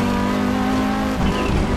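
Audi Quattro S1 E2 rally car in Assetto Corsa braking hard and sliding as the tail rotates on a Montenegro rally stage, a steady engine drone giving way to a tire scrub near the end.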